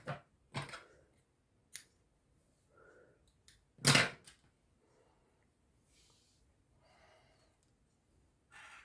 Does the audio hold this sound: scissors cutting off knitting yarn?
yes